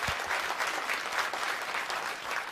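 Audience at a 9-ball billiards match applauds in a sustained burst of clapping that fills the room steadily from start to end, with no voices on top.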